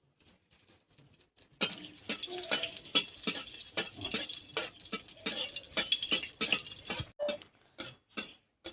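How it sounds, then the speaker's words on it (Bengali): Three dried red chillies fry in mustard oil close up, giving a dense, steady crackle and sizzle of popping bursts for about five seconds before it suddenly cuts off, with only brief spatters after. "আর যেটা দেবো সেটা হচ্ছে শুকনো লঙ্কাটা একটু ভেজে তুলে নেব"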